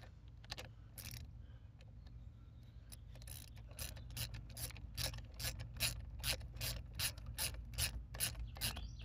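A ratchet tightens the negative battery terminal on a 2009 Nissan Rogue, giving a close, steady run of rapid, evenly spaced clicks that get slightly louder as it goes, with no talk.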